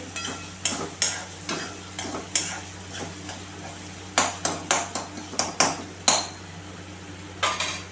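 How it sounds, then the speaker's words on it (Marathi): Soaked lentils (dal) sautéed in a pan for a wild-vegetable dish, a low sizzle under a series of sharp spoon scrapes and taps against the pan in irregular clusters, close and clear with no speech. "डाळ सोडली तिला थोडंसं वरतून परतून घेते"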